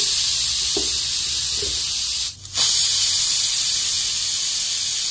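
A pressure cooker with chicken inside hisses steam loudly and continuously, the hiss briefly dipping for a moment partway through before it resumes at full strength.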